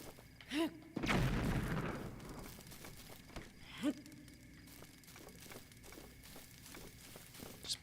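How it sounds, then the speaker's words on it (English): Exploding barrels blowing up in the Zelda: Breath of the Wild video game, one heavy burst with a rumbling tail, framed by a few lighter thuds before and after. "Got some exploding barrels."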